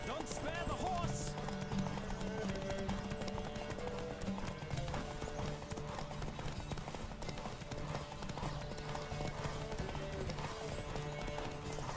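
A horse gallops flat out in a race in The Witcher 3, its hooves clip-clopping in a fast steady rhythm under constant shouting from riders and a busy game soundtrack.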